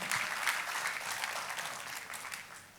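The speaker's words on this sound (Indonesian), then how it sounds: "Tepuk tangannya yang meriah buat Tuhan." Applause from a church congregation during a sermon, a lively wash of many hands clapping that stays fairly steady before gradually thinning toward the end.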